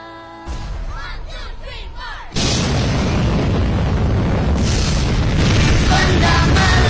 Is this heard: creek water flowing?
no